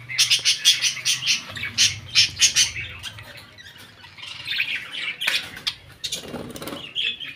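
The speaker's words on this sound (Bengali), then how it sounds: "এই যে দেখো কত সুন্দর কালারের পাখি" Colourful pet birds, including yellow and green ones, squawk and chirp in quick, loud bursts close by, with a brief flutter of wings partway through and no talking.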